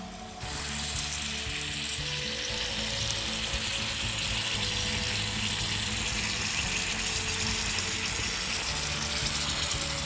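Sauce is poured into a pan of pork stir fry, and a loud, steady sizzle and frying hiss rises at once and continues up close with faint liquid bubbling, no talking.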